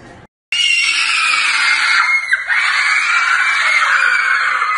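Children yelling in a loud, sustained, high-pitched shriek that starts suddenly after a brief quiet moment and carries on close and unbroken.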